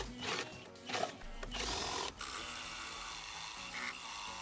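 A few short bursts of a DEKO 20V cordless driver in drill mode give way to a steady high-pitched whine as a spade bit grinds into a wooden door.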